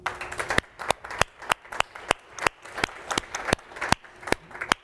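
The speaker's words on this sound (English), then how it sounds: "applause, please." A few people at an awards ceremony at a conference close clap in sparse, uneven claps, sharp and fairly close, spaced irregularly across the stretch rather than forming a full crowd roar.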